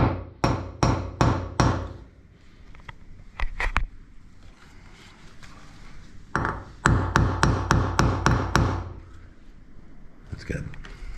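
A hammer drives a nail into a wall for hanging art, in two bursts of four to six sharp, evenly spaced blows, loud and close, with a few lighter taps between and brief talk nearby.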